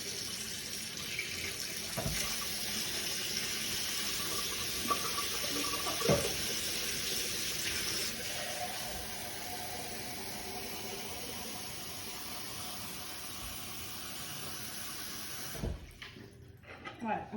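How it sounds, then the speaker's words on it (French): Hot water running into a measuring jug to fill one litre, a steady close rushing pour that holds for most of the stretch and then stops abruptly near the end, followed by light handling noises. "j'ai mis 1 litre d'eau chaude"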